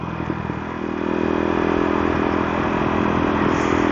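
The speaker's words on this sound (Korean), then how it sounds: "그러면 이렇게 기어 변속을 빠르게 할 수 있죠" A KTM Duke 390 motorcycle engine runs close and loud while quick gear shifts are made, a steady droning rumble that swells slightly after the first second, with light mechanical clatter and no speech.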